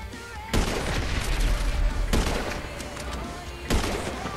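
Rapid gunfire and booming bazooka blasts come from an online session of GTA 5. Three big explosions land roughly a second and a half apart over continuous loud shooting.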